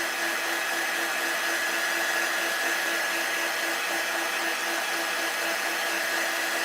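A hair dryer blows steadily and loudly up close, drying craft paint on Valentine's decor, with a constant airy roar and a faint motor whine and no pauses.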